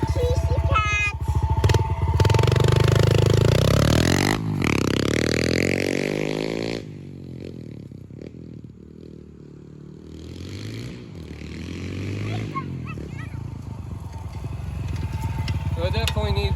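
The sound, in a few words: Yamaha TTR110 pit bike revving with FMF exhaust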